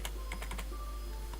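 Typing on a computer keyboard while entering R code. A handful of soft, quick keystrokes cluster early, then one more comes later, faint over a low steady hum.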